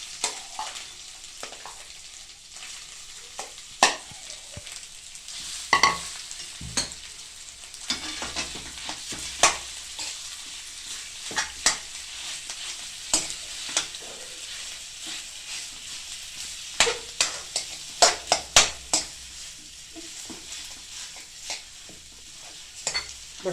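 Spiced potato filling for aloo paratha, with ginger, chillies and turmeric, fries in a pan while a spoon stirs it, giving a soft steady sizzle with repeated scraping taps, close and without talk.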